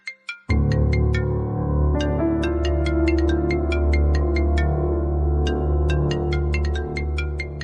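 A mobile phone ringtone plays loudly and close, a bright repeating electronic melody of quick chiming notes over a sustained tone, running continuously after a brief start with no voices.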